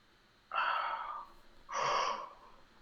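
During a live football match chat, a person gives a close, breathy yawn in two drawn-out airy phases of breath, with no talking.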